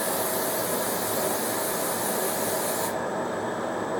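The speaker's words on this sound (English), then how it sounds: "give it a little anti-spatter" Anti-spatter spray misted onto stainless steel before welding on an old South Bend lathe: a steady, close aerosol hiss lasting about three seconds, then a quieter, softer hiss continues, with no talk.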